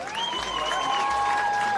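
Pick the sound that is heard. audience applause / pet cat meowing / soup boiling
audience applause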